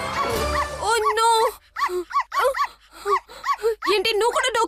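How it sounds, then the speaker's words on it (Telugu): A dog barks in short yips and whimpers in rising, whiny cries, close and fairly loud, with people talking around it in a school-set scene. "ఏంటి, నువ్వు కూడా డాగ్ తీసుకొచ్చావా?"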